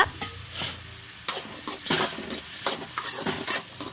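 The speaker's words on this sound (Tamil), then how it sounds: "ஆட் பண்ணிட்டு அதையும் நல்லா மிக்ஸ் பண்ணிக்கோங்க" A spoon stirs green paste into a country chicken soup base in a pot, with irregular scrapes and knocks against the metal over a light, steady sizzle.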